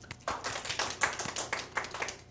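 Audience clapping at a sales seminar, a short burst of many hands with distinct uneven claps and taps close by, no talk over it.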